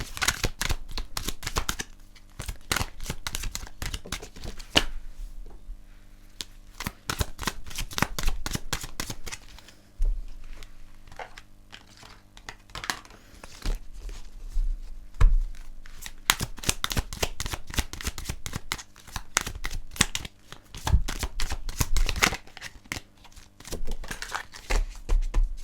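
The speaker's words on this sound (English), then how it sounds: "I'll pull one more card from the Connections Oracle." Oracle cards from a Connections Oracle deck are shuffled by hand, a long run of quick riffling flutters and soft slaps coming in bursts with brief pauses, close and clear, with no talking.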